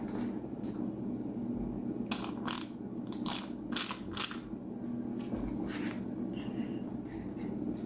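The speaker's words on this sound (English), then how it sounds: "Looks like we might loosen the tensioner even a little bit more." A ratchet wrench loosening the timing belt tensioner on a 1.8 Miata engine during a rebuild, heard as several short bursts of rapid clicking over a steady low hum, close up.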